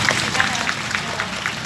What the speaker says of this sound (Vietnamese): xin cảm ơn những tràng pháo tay vừa rồi của tất cả quý vị